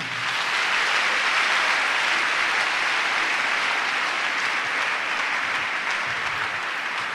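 A church congregation applauds the Lord, with dense, sustained clapping from a large crowd that stays loud and even throughout without a break.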